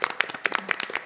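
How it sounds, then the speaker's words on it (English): Brief applause at a city governing body meeting, a handful of distinct, separate claps in an uneven rhythm, fairly close and sparse, lasting only about a second. "I think we owe you a round of applause for everything."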